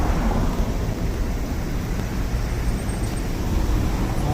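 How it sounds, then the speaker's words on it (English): Rain comes down on a Tokyo street between Shibuya and Harajuku, a steady, loud, broadband hiss of falling water with a low rumble beneath it, continuous throughout and without talk. "Oh, and it starts raining again."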